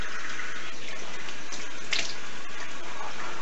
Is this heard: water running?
yes